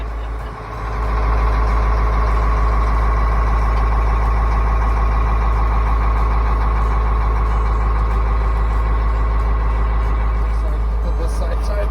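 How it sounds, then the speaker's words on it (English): A tow truck idles close by in remote Alaska, its engine giving a loud, steady low rumble that continues without change, with reversing beeps and a voice faintly mixed in. "Never been so happy to see a tow truck in my life."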